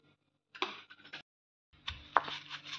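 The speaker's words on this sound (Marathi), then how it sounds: "मी खलबत्ता घेतला आहे दगडी, त्यात मी कुटून घेते." A stone pestle pounds roasted chillies in a stone mortar, making a few close, dull knocks in two short bursts separated by a pause, with no talking.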